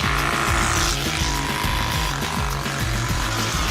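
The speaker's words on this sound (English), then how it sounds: "Turbospoke fits to any kind of bike and makes it look and sound like a real motorbike." A Turbospoke bicycle exhaust fitted to a bike gives off a loud, buzzing motorbike-like engine drone with a rapid, regular pulsing throughout, close and unbroken.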